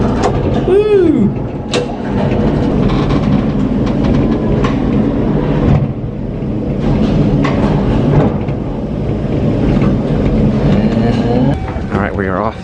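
A tram rolls along its rails up toward a work area, a steady loud rumble with squealing wheel tones and clatter running throughout, while people talk and exclaim over it.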